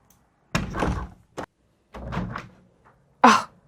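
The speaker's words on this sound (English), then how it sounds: "oh God, I thought the whole door was going to fall apart" A hotel room door in Sarajevo bangs and rattles in a few separate bursts, heavy thuds and shaking wood followed by a final sharp slam, loud and close in an otherwise quiet room.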